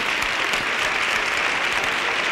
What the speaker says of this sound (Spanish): ¡Aplauso para Pepe Nieto y todos los tauros!